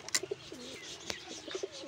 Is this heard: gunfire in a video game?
no